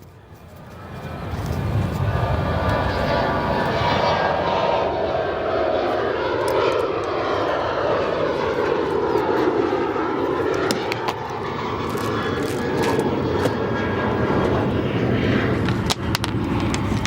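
An airliner departing O'Hare airport roars steadily and loudly close by, its engine noise sustained throughout with a faint sweeping tone shifting as it climbs away.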